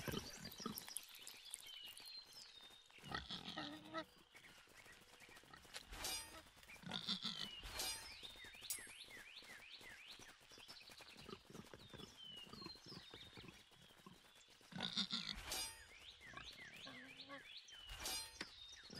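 Pig grunts and squeals in the video game Mortal Online 2, several short bursts repeating over a busy outdoor game ambience with rustling and footsteps, fairly close and moderately loud.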